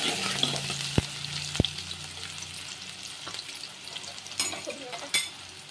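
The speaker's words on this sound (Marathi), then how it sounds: "आता तेल गरम झालेलं आहे। एक मोठा कांदा चिरून घेतला आहे, टाकूया आपण।" Chopped onion dropped into hot oil in a pan for a rohu fish curry, a steady close sizzle with a couple of sharp utensil knocks and stirring scrapes, no talking.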